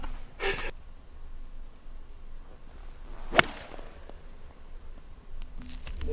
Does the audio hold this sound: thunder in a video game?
no